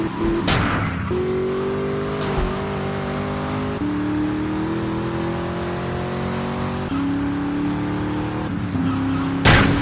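A sports car in Grand Theft Auto III accelerates hard with its engine revving up through the gears, each gear change marked by a short drop in pitch, loud and steady with no talk.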